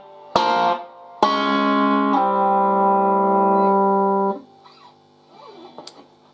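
A distorted electric guitar plays a riff slowly: two sharp picked stabs, then a long sustained sliding note that rings before cutting off, close and moderately loud.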